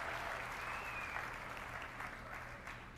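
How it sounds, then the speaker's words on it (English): Audience clapping at the Nintendo E3 2004 press conference, a steady, dense wash of applause from a large crowd heard from a distance, lasting a few seconds. "I can hear the clapping in the audience."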